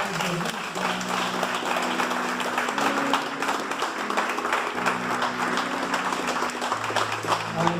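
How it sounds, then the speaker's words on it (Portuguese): A church congregation claps for the Lord during a pastor's service, giving steady, moderately loud applause over sustained tonal notes that run underneath throughout. "Vamos aplaudir ao Senhor."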